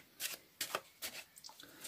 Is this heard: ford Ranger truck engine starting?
no